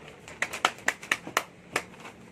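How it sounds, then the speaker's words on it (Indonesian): A handful of sharp, separate hand claps from classroom students during a teaching session, about seven quick, scattered slaps over two seconds at moderate loudness, with no talk over them. "tepuk tangan dulu."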